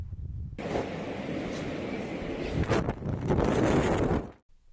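Strong typhoon-force winter wind roars through Busan, a loud continuous buffeting rush with gusts that swell and batter the microphone before dropping off abruptly.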